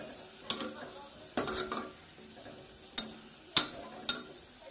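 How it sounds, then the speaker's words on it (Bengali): A spoon clatters and scrapes against a pot several times at an uneven rhythm while chicken soup with vegetables and pepper powder is stirred over a faint sizzle, close and distinct. "আবার খুব ভালোভাবে নেড়ে নেব।"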